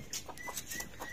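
Short, soft clucking calls from chickens, a few brief bursts spread across the moment, close by against a faint background hiss.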